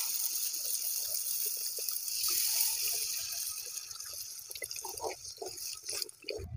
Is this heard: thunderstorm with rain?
no